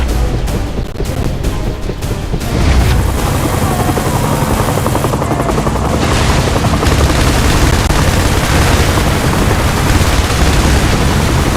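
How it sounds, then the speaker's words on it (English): A helicopter in the PC war game IS Defense drones loudly and steadily, its rotor wash filling the scene alongside bursts of gunfire and distant booms. "Chopper ready to assist."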